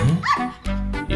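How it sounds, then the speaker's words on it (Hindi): A dog from a Hindi-dubbed film scene barks in a short burst of two or three close yips and woofs, loud and alone with no talk over it. "दूर से देखकर ये भौंक रही थी"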